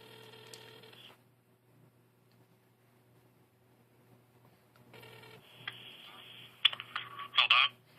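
A phone call being placed: a short run of dial tones and beeps, then silence, then more electronic tones and a burst of clicks, all close and fairly quiet over a low hum, with someone talking.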